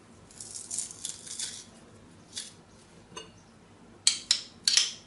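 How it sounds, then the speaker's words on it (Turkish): Garlic cloves being crushed for a yogurt and roasted red pepper meze, with faint scraping and rattling followed by a few sharp metallic clinks near the end, close and quiet. "2 diş sarımsağım var. Bunları da eziyorum."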